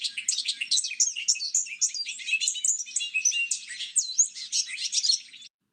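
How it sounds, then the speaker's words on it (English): A dense chorus of wild birds sings on a farm in the morning, with overlapping chirps, trills and whistles coming steadily and fairly close for about five seconds, then stopping abruptly. "Our team is greeted this morning by a chorus of bird song"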